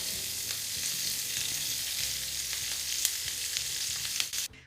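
Peperoncini del fiume frying in a pan, a steady bright sizzle with crackling pops throughout, close and loud, ending with a brief clatter.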